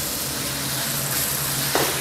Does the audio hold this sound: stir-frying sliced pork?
yes